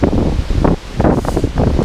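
Strong wind on a hill trail at Bukit Gedong, gusting in loud rough buffets against the microphone with a rustling roar that rises and falls in bursts, close and with no voices.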